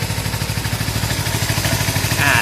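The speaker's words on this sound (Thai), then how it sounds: "คันนี้ เครื่องยนต์จะเดินได้นิ่งได้เรียบกว่า เพราะว่าคันนี้ มันติดครบสองสูบ" A Kawasaki Z300 two-cylinder motorcycle idling smoothly on both cylinders, a close, even low putter with steady rhythmic pulses and faint mechanical clatter on top.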